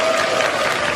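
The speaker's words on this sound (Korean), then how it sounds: "다시 한 박수 부탁드립니다." Brief burst of audience clapping at a Korean political talk event, dense and even for about a second.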